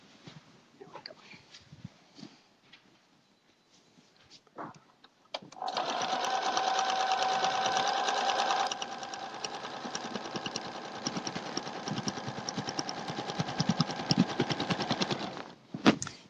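A sewing machine stitches a log cabin quilt seam at a scant quarter inch, starting after a few quiet seconds and running as a loud, steady close whir with a brief change in pitch partway through.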